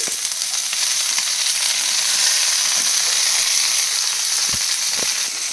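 Onion, green chili and curry leaves, along with mustard seeds, sizzle steadily in hot oil for a Telugu okra fry, giving a loud, continuous crackling hiss with a few sharper pops near the end and no talking.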